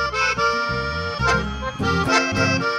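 Live chamamé music at a club dance, a loud, full band sound with sustained accordion-like chords and a bouncing bass line, steady and close.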